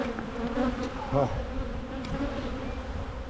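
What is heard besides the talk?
honeybees buzzing during January hive inspection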